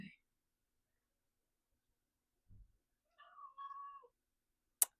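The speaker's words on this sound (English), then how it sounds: "My cat just meowed." A house cat meows once, a short tonal call near the end of an otherwise quiet room, preceded by brief soft sounds and a faint knock.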